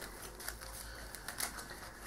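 A deck of trading cards is shuffled over and over before a Pale Moon versus Gold Paladin card game. Quick, faint, close clicking riffles follow one another in a rapid patter for about two seconds.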